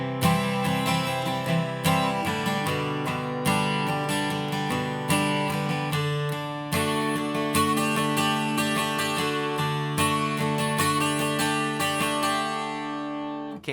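Acoustic guitar playing a gentle strummed and picked passage from a song, a steady, full-bodied chord progression ringing clearly and close without any talk.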